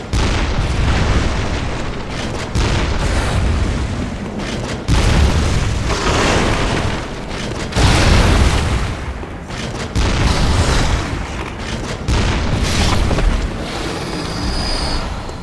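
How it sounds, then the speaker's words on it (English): Church cannon firing in the Bloodborne game, a dense stretch of heavy, booming blasts that repeat every couple of seconds, loud and close with rumbling explosions filling the whole span. "The church cannon."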